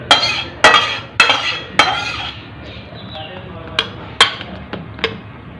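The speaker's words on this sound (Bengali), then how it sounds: "দিয়ে পাত্রটায় ঢালছি।" Cooked chicken is poured from a wok into a serving dish, giving a series of loud, sharp metallic clanks and scrapes of utensil against pan, spaced irregularly, with a brief lull in the middle.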